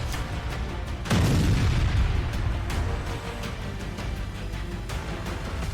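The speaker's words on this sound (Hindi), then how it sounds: "धमाकों की आवाज से पूरा कीव थर्रा उठा" Deep booms from Russian missile and drone strikes on Kyiv, one heavy blast rolling out loudly and lingering, with sharper thuds and distant rumbles scattered around it against a constant noisy background.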